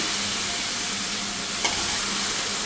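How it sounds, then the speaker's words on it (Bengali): Eggplant pieces hit a pan of frying spice paste, giving a steady loud sizzle and hiss with a brief clatter of stirring partway through. "আমি বেগুনগুলো এর মধ্যে দিয়ে দিব। দিয়ে একসাথে কিন্তু কষিয়ে নিব।"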